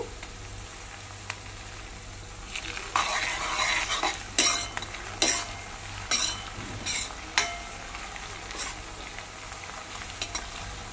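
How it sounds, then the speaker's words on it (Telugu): Curry leaves dropped into hot oil before chicken fry, a low steady sizzle with a burst of spattering and several sharp metal spoon clanks against the pan, fairly close. "కరివేపాకు కొంచెం వేసుకోవాలండి. 2 రెబ్బల కరివేపాకు"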